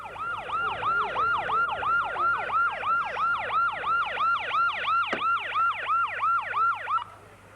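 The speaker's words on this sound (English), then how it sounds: "Sounds like the fire brigade is on its way." A fire brigade siren at a Lightning Ridge opal festival wails in fast, regular up-and-down sweeps, loud and steady for about seven seconds before cutting off, with traffic rumble beneath.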